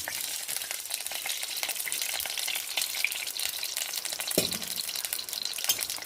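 Virgin coconut oil heating and frying in a pan, a dense, steady crackling sizzle that holds evenly throughout, with one brief low knock partway through and no speech.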